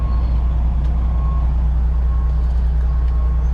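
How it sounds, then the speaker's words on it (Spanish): A heavy truck rolls in reverse on idle without throttle, its low diesel rumble steady throughout, while a faint intermittent reversing beep sounds in the background. "Ahí yo voy en reversa y nomás con el puro movimiento solo de la reversa, no estoy pisando al acelerador."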